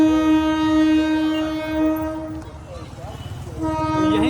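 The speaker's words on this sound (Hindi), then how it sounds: "नीचे दिख जाएगा आपको दोस्तों रेलवे स्टेशन, जहाँ से आपको एक रेलगाड़ी आती हुई दिखाई देगी" A train pulls into a railway station, its loud, sustained horn blaring for over two seconds, then a short rumbling gap before the horn sounds again as the train comes in.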